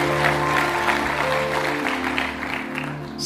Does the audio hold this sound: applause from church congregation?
yes